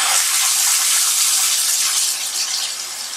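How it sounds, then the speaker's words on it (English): Water pours hard from a Delta single-handle shower faucet, a loud, steady rushing hiss close by that eases slightly toward the end, with no voices over it. "Just went out and turned our water back on."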